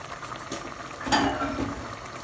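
Chinese mushrooms go into a simmering mushroom risotto in a pan, making a soft bubbling sizzle with a brief stirring clatter as they drop in.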